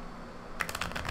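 Tarot cards being shuffled at close range, a quick run of soft papery riffling clicks that starts abruptly about halfway through and keeps a steady rapid rhythm, with no voice over it.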